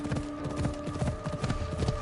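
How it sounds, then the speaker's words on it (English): Horse hooves clip-clop across the ground in the video game Assassin's Creed Odyssey, a steady rhythmic run of quick hoofbeats over a low hum, moderately close and fairly quiet. "I need to take this horse either to Adonis or to the stable boy"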